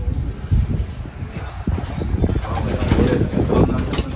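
Racing pigeon at a loft landing with a flurry of flapping wings, close and fairly loud, over a busy outdoor background.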